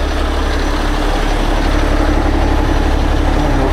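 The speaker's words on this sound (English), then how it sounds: "we have to turn this tractor around so it could be towed" A heavy truck tractor's diesel engine runs steadily up close while the rig is turned around in the desert at Boron, a loud constant low rumble with no pauses.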